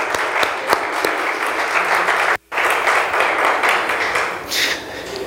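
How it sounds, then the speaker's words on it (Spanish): Steady applause from a church congregation during a Sunday service, dense clapping that fills the room for about five seconds, briefly cutting out once before resuming. "Muy bien, un aplauso para ti."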